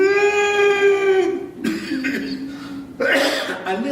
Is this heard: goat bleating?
no